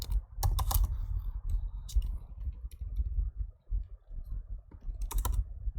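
Computer keyboard typing while entering JavaScript code for a browser game, a steady run of close, crisp key clicks with a few louder clustered bursts, no talking over it.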